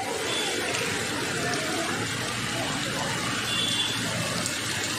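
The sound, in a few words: rainwater overflowing from an open drain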